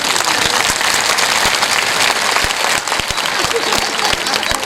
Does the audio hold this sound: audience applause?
yes